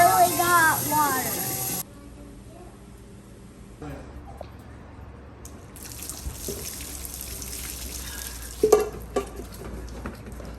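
Boiling hot water poured over a dented car panel: after a short burst of talk, a soft, steady trickle and splash runs for several seconds, fairly quiet, with a brief voice near the end.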